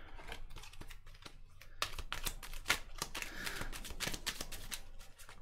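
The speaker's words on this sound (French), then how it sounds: "On va mélanger." Tarot cards being shuffled for a Scorpio reading, a quiet run of rapid crisp riffling snaps and soft slides close to the microphone, with no talk.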